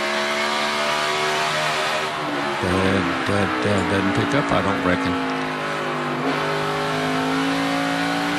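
A NASCAR Sprint Cup car runs a qualifying lap at Richmond, its engine droning steadily and then rising and falling as it passes, while a commentator talks over the sound.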